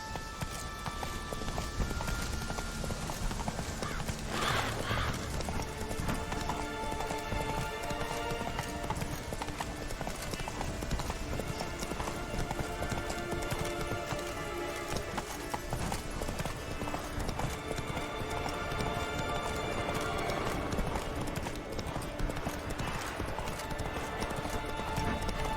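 Horse hooves galloping in The Witcher 3 video game, a rapid continuous clip-clop rhythm that runs throughout at a steady pace, with a brief whinny-like sound near the start and no talking.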